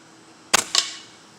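A Gamo Swarm Maxxim .22 air rifle fires a pellet: a sharp, close crack followed a moment later by a second snap, two quick transients with no talk.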